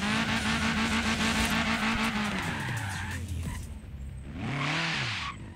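A car in Forza Horizon 3 drifts with tyres skidding and screeching loudly over a revving engine, the squeal dropping away briefly before a second strong burst of skidding near the end.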